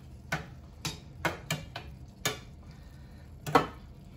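A spoon stirs a vegan burger mixture in a bowl, giving six or seven distinct knocking taps against the side at an uneven rhythm, close and fairly quiet, with no talking.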